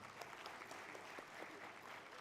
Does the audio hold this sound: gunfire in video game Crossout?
no